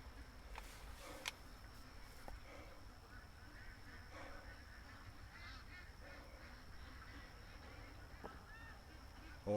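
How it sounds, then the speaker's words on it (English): Canada geese honk off in the distance, faint calls drifting over a steady background hiss, with one sharper cry standing out early, heard from inside a hunting blind. "the Canada geese have freaked out twice"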